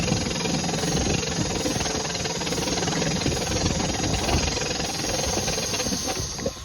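A Suzuki outboard boat engine runs steadily and loudly at close range during winterizing and fogging, with a dense, even mechanical rattle and no pauses.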